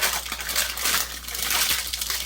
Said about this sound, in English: fold your paper, your foil, or whatever it was you used to line the pan